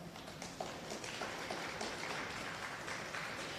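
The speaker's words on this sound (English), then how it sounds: "I think you all deserve a round of applause" An audience at an entrepreneurship exposition applauds, a faint, steady spread of many hands clapping together at a distance.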